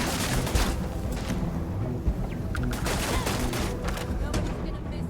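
Rapid bursts of gunfire and turret shots from the Starfield video game rattle on continuously, dense and loud, with a few sharper impacts mixed in.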